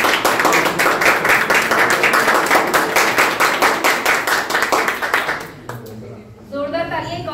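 Audience applause at an academic achievement celebration for NTA UGC-NET/JRF results, steady dense clapping from a crowd for about five seconds before fading out, with a voice speaking briefly afterward.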